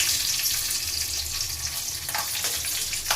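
Chillies fry in hot oil in a pan for a village-style sambar, giving a steady, close sizzling hiss with a few sharp spatters and stirring sounds toward the end. Nobody speaks.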